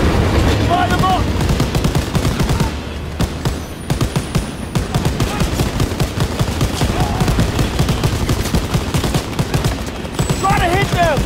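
Loud, continuous bursts of machine gun fire from the World War II shooter Call of Duty WWII, rattling steadily for the whole stretch amid other battle noise, with voices shouting briefly at the start and end.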